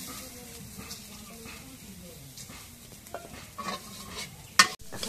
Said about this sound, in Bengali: পেঁয়াজ মরিচ কড়াইয়ের মধ্যে দিই।